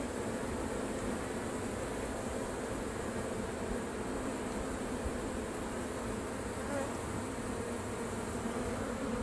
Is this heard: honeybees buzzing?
yes